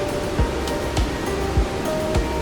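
Icy river water in wild Yellowstone rushes in a broad, steady roar, loud and close, with faint periodic low thumps beneath the flow.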